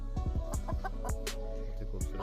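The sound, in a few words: heavy buff chickens clucking on a poultry farm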